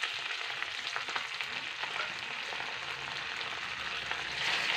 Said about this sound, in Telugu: అంతా ఒకసారి కలబెట్టాలి